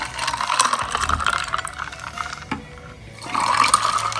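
Fresh sugarcane juice poured from a container, a loud splashing, gurgling stream with a brief clatter, a short pause near the end, then pouring resumes, with no voices.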